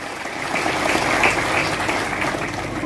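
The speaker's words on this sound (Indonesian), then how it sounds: "Tepuk tangan." Clapping from an audience at a Christmas gathering in Nusa Tenggara Timur, a continuous hissing wash of many hands at moderate loudness, swelling slightly in the middle and holding steady throughout.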